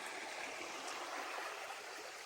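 Creek water on a washed-out stretch of trail rushes in a steady, even hiss, close and continuous, with no voices over it.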